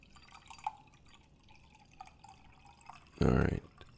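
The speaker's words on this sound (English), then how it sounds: "So I poured it in the glass." Arizona mango iced tea pouring from a can into a glass, a brief loud gush near the end after scattered light drips and clinks, with faint background noise.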